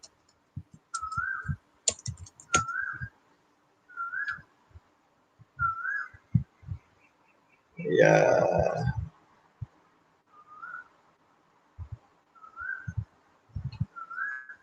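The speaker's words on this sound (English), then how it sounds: "I can hear the birds singing." Bright repeated chirping bird calls recur at a steady pace throughout, moderately near, interleaved with occasional clicks and a brief burst of broadband noise, while a voice speaks briefly.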